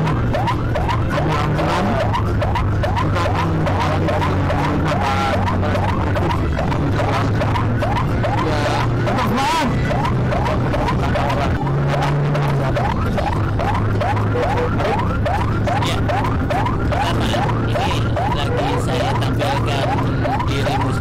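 A rapid, warbling ambulance siren wails continuously and loud, as if from inside or right beside the vehicle, over a steady engine hum.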